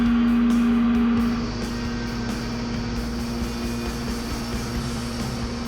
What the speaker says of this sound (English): smoke up the Dunlop tyres and celebrate becoming the Sasol GTC champion for the third time.